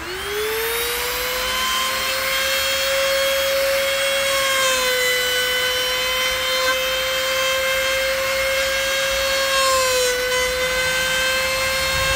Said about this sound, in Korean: 이 작은 거는 힘이 없어서 한 방에 못 가고 한 5mm 자르고 또 5mm 자르고 계속 해야 되는 겁니다